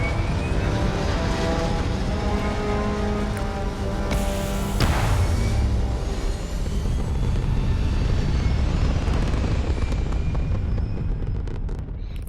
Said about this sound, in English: Liftoff complete.